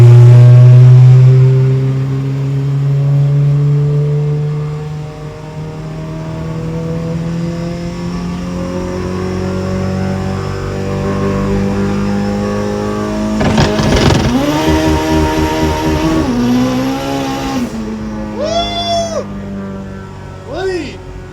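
A turbo Honda Integra street car with no windshield accelerates hard and revs through the gears, its loud engine close and rising in pitch, with a sharp turbo whine and flutter partway through and people talking over it.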